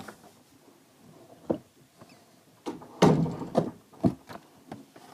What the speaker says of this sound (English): Sorry, I just need to shut my door.